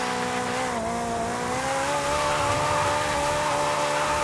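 A supercar in Forza Horizon 5 screams along at high revs with a steady, climbing engine note and a continuous tire squeal, loud and close with no talk over it.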